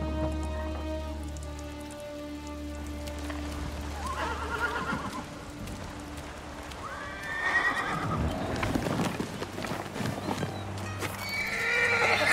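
A horse in the PS5 game Ghost of Tsushima (Iki Island) whinnies loudly, with clip-clopping hooves and pattering rain around it and under a musical score.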